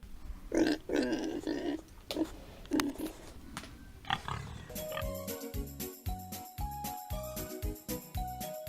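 Pigs grunting and snorting up close, short rough bursts, followed by a bright jingling tune playing over the top.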